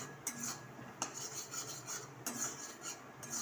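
Ripe mango chutney stirred in a pan, a spoon scraping and rubbing against the metal in steady strokes with sharper clinks about every second, close and fairly quiet, with no voices.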